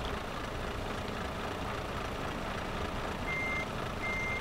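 A truck in Euro Truck Simulator 2 sounds its reversing alarm: a couple of short electronic beeps toward the end over a steady low engine rumble, with no talking.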